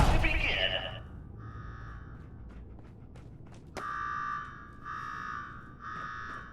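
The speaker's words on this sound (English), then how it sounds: "Now go shut off that damn alarm." A pulsing alarm blares in the video game Fallout 4, during an attack at Slocum Joe's, with repeated electronic buzzer bursts rising after a loud opening crash and some game noise around it.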